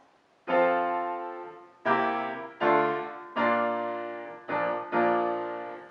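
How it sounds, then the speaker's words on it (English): Piano chords played without sustain, each one cut off abruptly, leaving short silent gaps between six separate chords. "chords on the piano without using your pedal."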